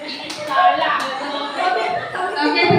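Teachers clap their hands at a school gathering, a burst of scattered claps from a small group, mixed with children's and adults' voices.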